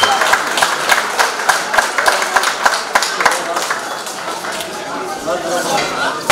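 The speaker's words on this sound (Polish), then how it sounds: "Jeszcze raz gromkie brawa dla obu zawodników" Crowd applause for two boxers at a boxing gala, a rhythmic burst of claps near the start that thins into scattered clapping, heard under an announcer's voice over a hall sound system.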